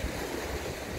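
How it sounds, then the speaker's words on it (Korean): Strong ocean waves surge and roar at a coastal fishing spot, a dense continuous wash of surf with wind noise against the microphone and no voices. "지금 파도가 굉장히 셉니다"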